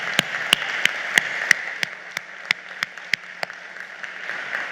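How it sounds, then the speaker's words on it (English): Sparse applause for legislators at a state education summit, a small number of sharp, distinct claps in a steady, regular rhythm over a quiet room background. "could we give them a round of applause,"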